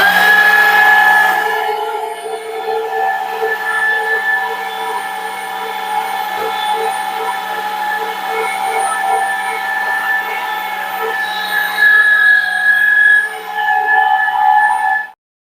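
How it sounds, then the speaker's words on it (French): An electric meat grinder runs steadily, mincing a homemade stuffing with onion and tomato through the coarse plate, a loud constant motor whine with a faint rhythmic churn, stopping abruptly at the end. "pendant que donc je fais la farce, là, que je la passe au hachoir"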